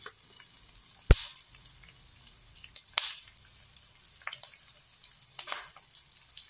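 Ginger frying in a pan gives a soft, steady sizzle close by, broken by a sharp clack and a few small pops and spatters.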